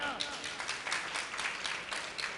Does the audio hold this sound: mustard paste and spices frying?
no